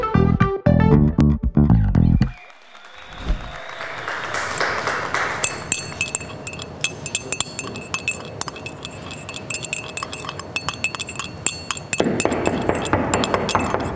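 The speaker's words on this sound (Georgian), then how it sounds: "შემწუხდი, კაცო, დავიღალი ამ კოვზის რაკარუკის ხმით." A metal spoon clinks repeatedly against a cup at an office coffee machine, a steady run of light, bright taps that continues for several seconds after a louder burst of noise at the start.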